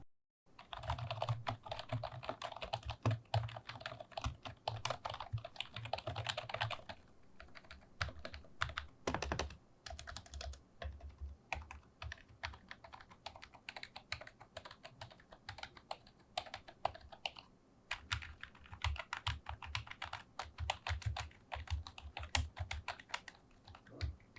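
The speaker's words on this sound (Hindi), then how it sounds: "चलें जल्दी से इस कीबोर्ड का साउंड टेस्ट परफॉर्म करके देखते हैं।" Soft, muted typing on a Redragon Asura 2 K501-2 membrane gaming keyboard: irregular runs of dull key presses with occasional brief pauses, close and fairly quiet.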